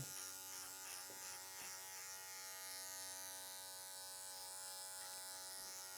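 Electric hair clippers run steadily through a clipper-over-comb pass during a fade haircut and beard trim, a continuous close buzz with slight dips in pitch as the blade meets hair, no talking.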